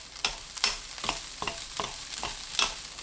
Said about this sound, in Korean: 파 따로 모아둔 것 넣고 볶습니다